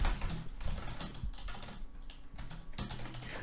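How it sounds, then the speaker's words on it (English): Rapid typing on a computer keyboard, close clicks and clattering keystrokes in quick bursts with a short pause near the end. "He is typing now."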